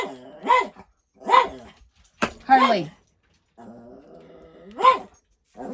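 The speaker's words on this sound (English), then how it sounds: "Sorry, we got the old one barking." An old dog barks several times in separate bursts, fairly close, with people talking around the barks in a home where grandkids and dogs are present.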